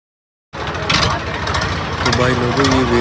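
A tractor carrying a driver and several passengers after a weigh-in starts up from silence and pulls away, its engine chugging and rising in pitch as it drives off, with people talking over it.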